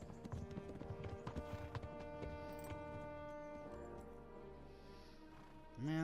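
Horses gallop during a cutscene in Kingdom Come: Deliverance, rapid hoofbeats over a tonal music score in the first couple of seconds, then the hooves fade under the music before a brief low swell at the end.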